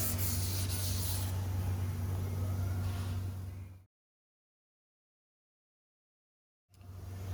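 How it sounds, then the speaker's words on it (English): Hand sanding along the edges of a fiberglass Cobra R car hood: a steady, close scratchy rubbing for about four seconds, then nearly three seconds of silence before the rubbing starts again. "Okay, I sanded the edges by hand."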